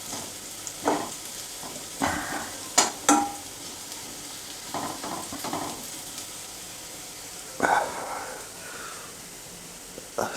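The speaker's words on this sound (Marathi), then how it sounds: "बघा छान असा लसूण आपला फ्राय झालेला आहे" Garlic frying in a pan during a Diwali chivda recipe, a soft steady sizzle broken by several sharp scraping stirs of a spoon against the pan, close up and without speech.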